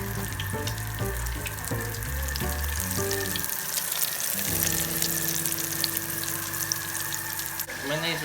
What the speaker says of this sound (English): we're just going to let those fry till about golden brownish